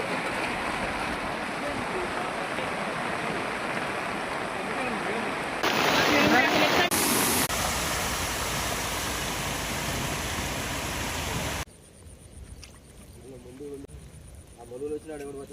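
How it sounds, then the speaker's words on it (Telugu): Floodwater rushes through Mulugu district, Telangana, during heavy rains: a loud, steady roar with voices talking over it, easing to a quieter flow in the final seconds. "వాటర్ వస్తుంది సార్, ఎక్కువ మేము లోపలే వస్తుంది"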